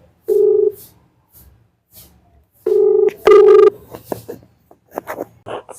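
A phone ringback tone sounds in two long beeps separated by a pause, followed by soft rustling and clicks.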